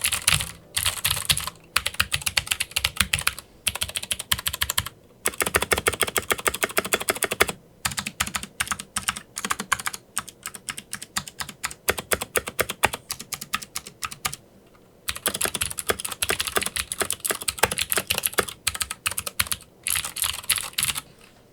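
Rapid typing on an Ajazz K620T keyboard, dense bursts of crisp key clicks and clacks in close-up, with brief pauses between runs and no talking.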